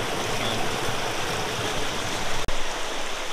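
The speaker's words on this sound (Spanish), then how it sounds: "Y ahora sí, ya se la oye, me parece, la cascada" Waterfall in Chicoana, a steady broadband rush of falling water that holds loud and even throughout, with one brief sharp click partway through.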